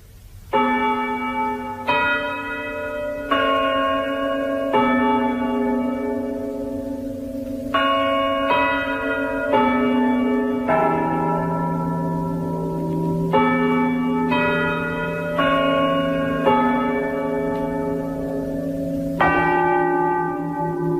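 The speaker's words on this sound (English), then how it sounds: "Let the bells give time." Church bells ring steadily in a resonant sequence of overlapping strokes, each tone sustaining and ringing out, with no voices present.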